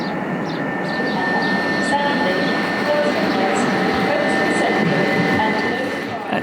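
A Southeastern train hums and rumbles steadily at close range at Ashford International station platform with a faint high whine, while a voice speaks over the continuous noise.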